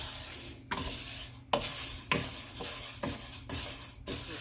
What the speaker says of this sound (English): You need to roast this in a flat pan.